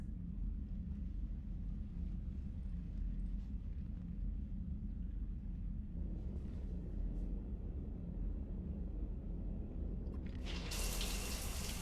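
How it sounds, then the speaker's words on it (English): Shower water running in the video game Mass Effect 3, a steady close rush with a low rumble, getting brighter and louder near the end. "I figured you'd be more interested in a shower."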